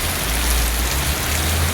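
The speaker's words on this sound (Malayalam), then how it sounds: "കണ്ടോ അടിപൊളിയല്ലേ മഴ" A steady rain shower beats down on a town street with buses passing, a continuous hiss layered over a deep, droning engine hum, with no one talking.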